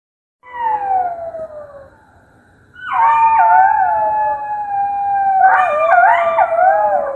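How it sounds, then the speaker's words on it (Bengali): A jackal howls in a cartoon fable, one long, loud, gliding wail that falls in pitch. It breaks off for a moment and comes back as several overlapping wavering howls that rise and fall. No one speaks. "অনেক পথ যাওয়ার পর কচ্ছপ হঠাৎ শেয়ালের ডাক শুনতে পেল।"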